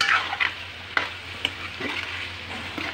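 Spiced potato pieces being stirred in a hot pan for a chana dal, potato and methi curry: a steady oily sizzle with a few sharp scrapes and clinks of the spoon against the pan, close and clear, with no talking.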